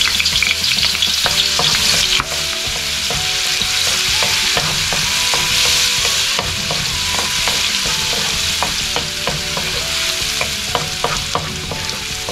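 Garlic sautéing in hot oil at the start of a Filipino vegetable stir-fry, a loud, close, unbroken sizzle with steady crackling and occasional stirring clatter, with faint background music.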